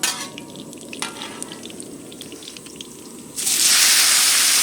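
Chicken mince frying in a pan with onion, ginger and garlic for village-style chicken chow mein, a steady sizzle and stirring that swells into a louder, hissing burst near the end, no talk.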